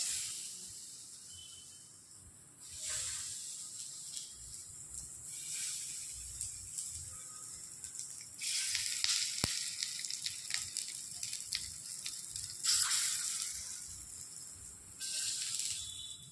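Moong sprout cutlets shaped and laid in a spoon of hot oil give a soft, steady hiss that swells in bursts and fades, with crackly spitting through the middle stretch and no talking.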